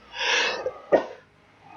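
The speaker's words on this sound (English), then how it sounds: "I'm just about to sneeze." A single close sneeze: a breathy inhaling buildup followed by a sharp explosive burst, then quiet.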